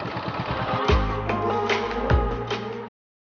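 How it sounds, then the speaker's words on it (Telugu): A bike wired for fingerprint-sensor ignition runs with a buzzing engine close by. Two brief thumps break in before the sound cuts off abruptly near the end. "బైక్ అయితే స్టార్ట్ అవుద్ది అనమాట"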